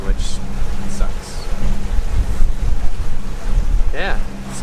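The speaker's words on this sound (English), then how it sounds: "So we're motor sailing. We still got the main out. It's helping a little bit, but we are running the engine, which sucks." A sailboat motor sailing with the mainsail up and engine running at sea, heard as a low steady drone under wind buffeting the microphone and water rushing past the hull, with brief higher squeaks and tones.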